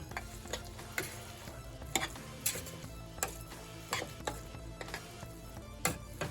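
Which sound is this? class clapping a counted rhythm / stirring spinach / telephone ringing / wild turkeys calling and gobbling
stirring spinach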